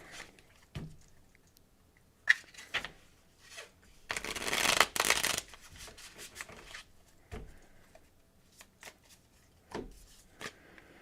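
Tarot cards being shuffled by hand, soft riffling and sliding bursts at close range with one longer, louder riffle in the middle, otherwise quiet with no talking.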